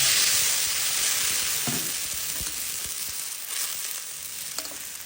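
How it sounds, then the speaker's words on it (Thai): Garlic, pepper, coriander root and ginger sizzle and fry steadily in a pan for Thai snakehead fish, with occasional stirring clicks; close and continuous, no talking. "ผัดกระเทียมพริกไทยรากผักชีขิง จนเหลืองหอมดีแล้วเติมน้ำไป"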